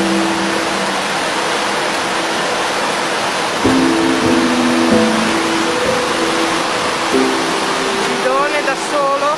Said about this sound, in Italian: Il fiume Zampilla esce fuori.